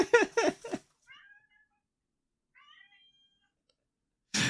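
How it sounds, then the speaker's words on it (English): A house cat meows insistently to be let out: a few quick, close meows at the start, then two faint, short chirps after a pause, with a brief burst of noise at the end. "My cat wants to get out."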